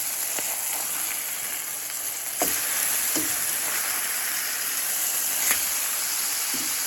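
Burgers frying in a pan on a stovetop give a steady, close, loud sizzle throughout, with a few soft clinks and scrapes.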